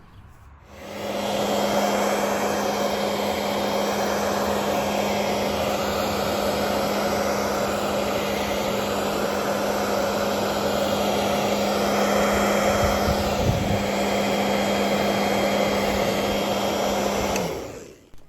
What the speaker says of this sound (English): A zebra print hairdryer is optional here. I'm just going to hold it gently above on a medium heat and gradually warm up the sticker.